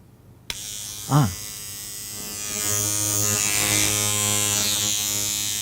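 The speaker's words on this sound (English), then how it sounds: "This is a routine electric toothbrush." A click, then a brief voice-like sweep, followed by a steady electric buzzing that starts and holds at a constant pitch, close by.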